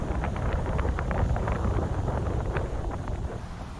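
Strong wind gusts across the South Pier in Manistee on Lake Michigan, a steady broadband roar buffeting the microphone throughout, with no voices.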